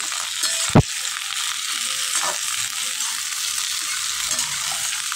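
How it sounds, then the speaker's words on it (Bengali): Vegetable curry being stirred and mixed in a frying pan, a steady close sizzle with scraping strokes and one sharp knock of the utensil against the pan, no talking. "খুব ভালো করে মিশিয়ে নিচ্ছি, নাড়াচাড়া করে নিচ্ছি"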